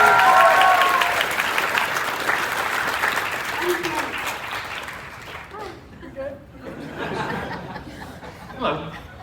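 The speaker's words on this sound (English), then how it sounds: "round of applause, round of applause." A convention panel crowd at a Star Wars Rebels event breaks into loud applause mixed with chuckles, tapering over several seconds into scattered claps and a few voices.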